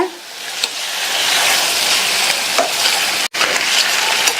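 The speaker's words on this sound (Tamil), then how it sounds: "வேக வச்ச வாழைக்காயை இதில் சேர்த்துட்டு இந்த மசாலாவில் நல்லா பிரட்டி விட்டுக்கோங்க" Boiled raw banana pieces being stir-fried in masala in a pan, a close, loud sizzle with occasional stirring scrapes and a brief cut in the sound partway through.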